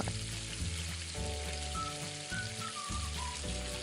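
Ginger-cumin paste sautéed in a pan for a papad and potato vegetarian curry, giving a steady soft sizzle and frying crackle throughout, with faint clinks and no talking.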